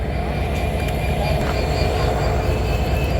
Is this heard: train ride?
yes